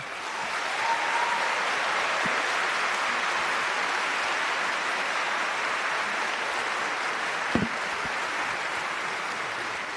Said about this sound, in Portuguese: pedir uma salva de palmas para você pelo trabalho